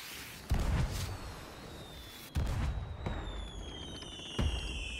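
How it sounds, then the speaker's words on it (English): Fireworks launched in the pirate video game Sea of Thieves, three deep booming bursts spaced a couple of seconds apart, followed by rising whistling trails over a steady rumble. "I'm shooting off fireworks."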